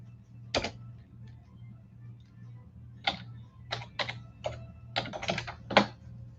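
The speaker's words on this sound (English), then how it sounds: "Let's actually type in." Scattered keystrokes on a computer keyboard, a few isolated taps followed by a quicker burst of clicks, fairly close and moderately loud over a steady low hum, with no voices.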